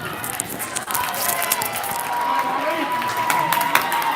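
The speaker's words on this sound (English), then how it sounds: "The entire crowd is letting the ref know who should have this ball." A basketball crowd at a women's league final game roars and jeers at the referee in a sustained loud wash of voices, with claps and sneaker squeaks mixed in.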